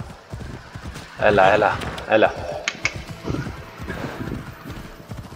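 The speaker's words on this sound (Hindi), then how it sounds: "असली फील आ गया घोड़ा चला के" Hooves clip-clop steadily as a horse is ridden through the Corinthia region in Assassin's Creed Odyssey, with a brief whinny-like burst early on and someone talking over the gameplay.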